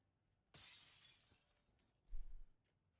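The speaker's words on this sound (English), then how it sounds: "You hear the glass break?" Glass shattering in the video game Call of Duty: Black Ops 7 during a tournament match, a sharp loud crash that rings briefly before a low thud follows.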